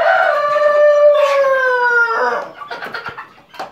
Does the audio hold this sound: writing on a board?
no